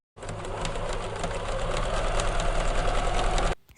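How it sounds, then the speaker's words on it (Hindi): A sewing machine stitching a printed fabric bag runs steadily for about three seconds, a close, even motor whir with rapid needle clatter, stopping abruptly at the end. "अब हम इसे एक किनारे से दूसरे किनारे तक सिल लेंगे"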